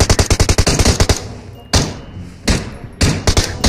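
Gunfire in PUBG Mobile: a fast, loud string of close shots opens the clip, followed by separated single blasts and short bursts with brief gaps between them.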